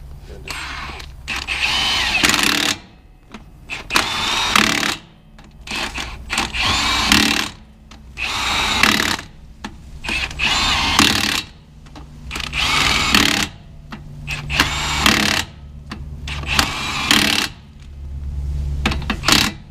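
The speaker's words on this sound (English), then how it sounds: "I put them in there real tight with the impact" An impact wrench fires in repeated loud, rattling bursts as it runs lug nuts down tight on the rear axle of an International truck. The bursts come close and regularly, with short pauses between them.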